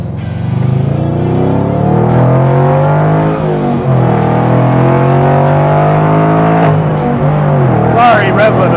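A 1961 Corvette build with a TKX gearbox runs at high RPM and bounces off the rev limiter. The engine drones loud and close from inside the car, with a short stutter near the end as the limiter cuts in.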